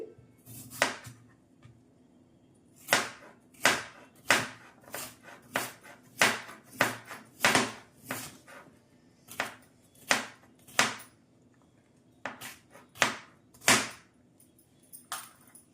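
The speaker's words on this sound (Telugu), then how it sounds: "నేనైతే ముక్కలు కట్ చేసుకుంటున్నాను. చిన్న చిన్న పీసెస్గా కట్ చేసుకోండి." A knife chops carrot into small pieces on a board in a home kitchen, a close, crisp series of about twenty sharp strikes in irregular bursts with brief pauses, heard alone without talk.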